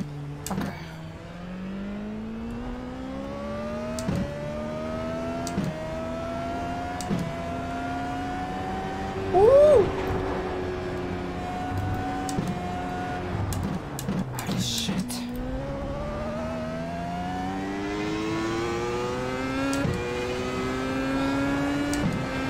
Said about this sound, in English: it sounds like a Formula One car!